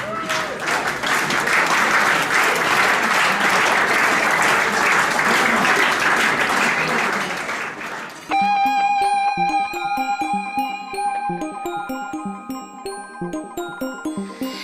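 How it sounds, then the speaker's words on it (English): Wedding guests applauding warmly for several seconds after a champagne toast, then the clapping stops abruptly as an upbeat pop song with a steady beat starts playing. "How about we give these three special people a nice round of applause?"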